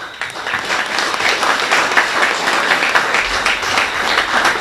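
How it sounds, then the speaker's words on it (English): Sustained crowd applause at a youth appreciation awards ceremony in Mon Repos, dense steady clapping from a sizeable audience filling the whole stretch without pause. "When it's good, we have to applaud."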